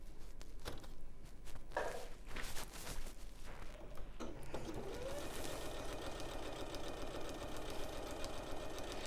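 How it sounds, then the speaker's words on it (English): A sewing machine stitches along the top of a pocket lining, with some handling clunks and rustles early on before the motor settles into a steady, fairly quiet hum. "we're just literally going to sew that up. just along the top"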